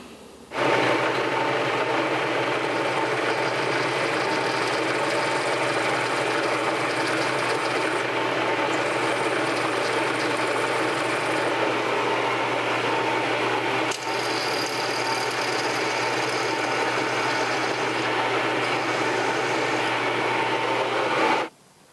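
A 1/8 drill bit bores into the core of a stuck bolt on a Cannondale bicycle, giving a steady, loud mechanical whirring grind that runs continuously for about twenty seconds before stopping.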